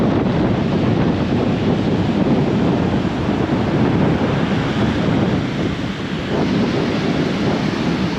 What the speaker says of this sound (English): Like I said, a very wind-whipped ocean.